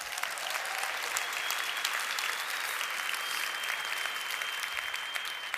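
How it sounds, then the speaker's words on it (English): An audience at an indoor event applauds steadily, a dense, even wash of many hands clapping that holds for several seconds at moderate loudness. "Give them a round of applause."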